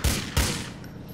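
Gunfire from the video game GTA IV: two heavy, close shots about a third of a second apart, each a loud broadband blast with a booming low end, followed by a fading reverberant tail.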